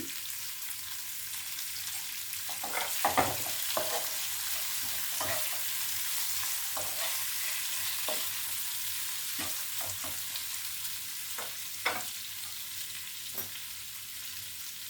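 Onions and tomatoes frying in a pan for an egg do pyaza, a steady bright sizzle with occasional clicks and knocks of stirring, close and alone without talk.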